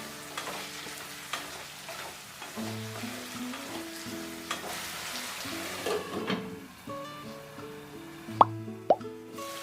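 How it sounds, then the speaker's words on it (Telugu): A chopped tomato drops into a pan of drumstick curry, giving soft plops and a low sizzle, with scraping stirs and a couple of sharp spoon taps near the end. "ఒక పెద్ద టొమాటోని చిన్న ముక్కలుగా కట్ చేసి యాడ్ చేస్తున్నాను."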